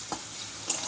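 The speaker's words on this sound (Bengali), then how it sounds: "এবার আমি পেঁয়াজটাকে খুব ভালো করে ভেজে নেব।" Onion and chilli frying in hot oil, a steady soft sizzle with a faint stir or scrape near the start and a brighter burst of spatter near the end.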